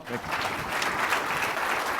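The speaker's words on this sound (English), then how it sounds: "let's give them a round of applause" Steady applause from a crowd fills the whole stretch, dense clapping holding at an even level from start to finish.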